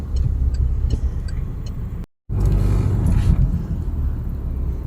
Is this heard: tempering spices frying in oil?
no